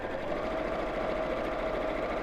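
Sewing machine stitching a quarter-inch seam, a faint, steady mechanical whir with rapid even needle rhythm, running continuously on its own.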